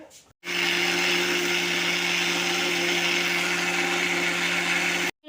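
An electric kitchen grinder grinds soaked, washed rice, starting abruptly and running as a loud, steady, droning whine for about five seconds before cutting off.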